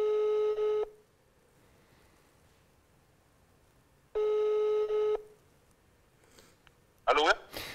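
A telephone call rings out on the line with two long, even ringback tones separated by several seconds of near silence, followed by a brief pickup clatter and a voice at the end.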